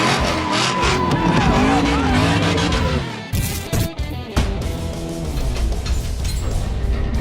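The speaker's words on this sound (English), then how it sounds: "There's drifting, there's autocross." A car drifting at a motorsport event with drifting and autocross, engine roaring loud and close as tires squeal in long wavering howls, then a burst of skidding noise and continued revving.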